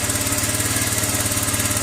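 A motorcycle engine fitted with a Nibbi 28mm carburetor idles steadily during carburetor tuning, its close, even putter pulsing at a fast regular rhythm throughout.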